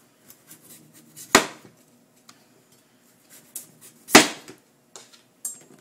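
A kitchen knife peels the skin from a butternut squash, with two sharp, close knife strikes standing out over faint scraping and light taps.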